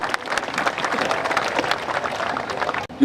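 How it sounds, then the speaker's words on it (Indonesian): An audience at a performance in Banyuwangi claps for two guests, a lively crowd patter with distinct sharp hand strikes that runs steadily, then cuts off abruptly near the end. "Tepuk tangan untuk beliau berdua."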